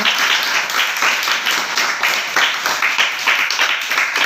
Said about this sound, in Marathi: जोरदार टाळ्या वाजवू तिच्यासाठी